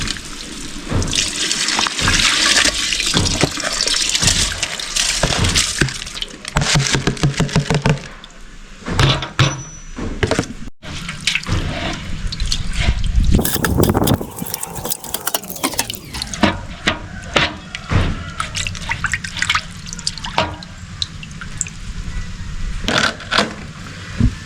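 Water pours and splashes into a cooking pot holding soaked rice for a Sri Lankan village-style dum biryani, a steady, close, loud running and filling sound with a few brief pauses and clatters, no talking.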